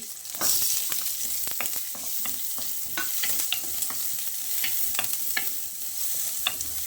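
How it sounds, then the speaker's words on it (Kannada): Onions, green chillies and curry leaves sizzle steadily in a hot pan, with repeated scraping and clinking of a spatula as they are stirred, close and clear with no talking. "ಒಂದೆರಡು ನಿಮಿಷ ಫ್ರೈ ಮಾಡ್ಕೋಬೇಕು ಒಗ್ಗರಣೆ ಬೇವಿನ ಸೊಪ್ಪು ಈರುಳ್ಳಿ"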